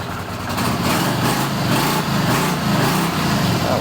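A rebuilt Honda CX500 motorcycle engine runs steadily on choke with fuel that may be stale, a close, continuous low rumble holding an even idle throughout with no speech.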